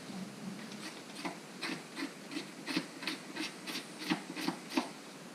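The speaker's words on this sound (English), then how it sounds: "turn your knife around, use the dull side, just start scraping" Rhythmic scraping of an otter baculum with the dull back of a knife blade, a series of about a dozen short, regular rasping strokes, close and faint.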